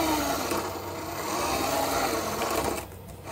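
A big-wheeled mobile robot's drive wheel and slightly tight-meshed gear, mounted on an axle through a bearing block, turn as it is pushed by hand, making a close, continuous mechanical whirring and grinding rattle with no talking.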